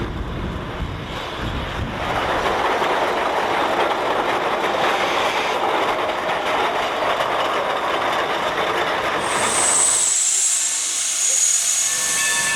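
A Shay geared steam locomotive hauling a short train rolls into the Chinese mill siding at Sierra Railroad's Rail Town 1897, a loud continuous rumble of wheels and chuffing hiss up close, ending in a sharp high steam hiss as it stops.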